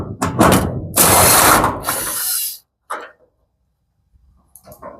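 A ratchet removing screws from a garage door roller, with loud, close bursts of rapid clicking followed by a few short, fainter clicks after pauses.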